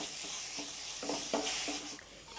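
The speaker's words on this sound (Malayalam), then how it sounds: "വലിയ ജീരകപ്പൊടി, ബിരിയാണി മസാല. ഇതിട്ട് നന്നായി വഴറ്റിയെടുക്കാം." A prawn biryani base of tomato and onion is sautéed with fennel powder and biryani masala, giving a continuous close sizzle with a few soft stirring knocks and no speech.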